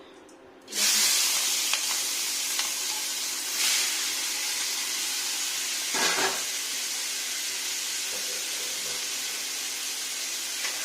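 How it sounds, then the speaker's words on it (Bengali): Prawns coated in salt and turmeric hit hot oil with a sudden loud hiss that settles into a steady, close sizzle, with a few brief louder bursts as they shift in the pan. "মাছটাতে লবণ আর হলুদ অল্প পরিমাণ ভাজা করবো বেশি ভাজবো না"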